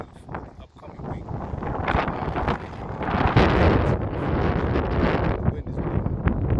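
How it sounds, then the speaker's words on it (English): Outdoors, strong wind buffets the microphone in a continuous, loud roaring rumble that swells and gusts throughout. "The wind is blowing."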